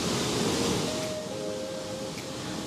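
Rushing water of the Nile at Murchison Falls in Uganda, a steady, dense roar of falling water heard alone, with a faint tonal sound briefly over it.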